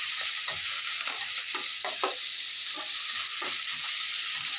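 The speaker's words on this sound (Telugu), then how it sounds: "బాగా వేగినాయి ఉల్లిపాయలు." Onions fry in a pan with a continuous bright sizzle, punctuated by soft stirring clicks and scrapes, close and steady with no voices.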